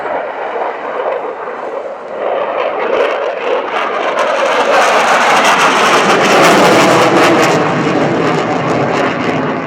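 Military jet making a high-speed airshow pass at about 400 knots while pulling 7 G, Royal International Air Tattoo at RAF Fairford; a loud, continuous roar that swells after a couple of seconds and stays strong, with no talk.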